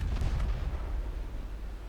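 Warship guns firing in the naval battle game Ultimate Admiral Dreadnoughts: a deep, sustained rumbling boom with a couple of quick sharp cracks at the start, heavy and loud throughout.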